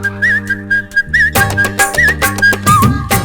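Whistled melody in a Tamil film song, with a wavering tune over steady music; the backing thickens into full band partway through as the whistling continues.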